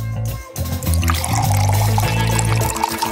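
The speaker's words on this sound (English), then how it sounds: "Probably you need to pour milk on it." Milk pours over a chocolate ball in a home cooking challenge, a loud, steady liquid splash and trickle lasting a few seconds, alone with a low droning hum beneath.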